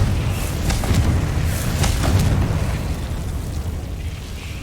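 Confringo blasting spell in Hogwarts Legacy: a loud, rumbling explosion with a few crackling bursts early on, settling into a sustained roaring blast that slowly fades.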